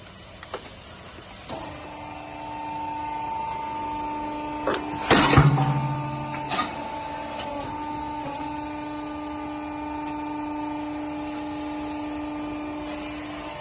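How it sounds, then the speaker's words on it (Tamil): A hollow block making machine running on three-phase power, a steady electric motor hum with whining tones, interrupted midway by a loud burst of mechanical clanking and vibration as a block is pressed. "3 பேஸில் இப்போ கல் அடிச்சு காட்டுறோம்."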